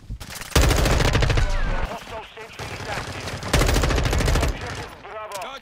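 Rapid automatic gunfire in Call of Duty Modern Warfare 2 multiplayer, two loud sustained bursts of several seconds each, with quieter game effects between them and a player talking over the action.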